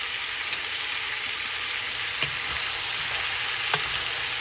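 Turkey wings and necks sear in a pot with a steady, dense sizzle and crackle of hot fat, close and continuous, with a couple of faint utensil taps.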